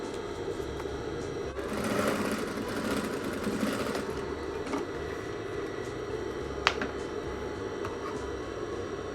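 A sewing machine stitching the hem of stretch fabric while sewing trousers with a hidden zipper, giving a steady, continuous mechanical whirr with a brief louder stretch early on and one sharp click near the end.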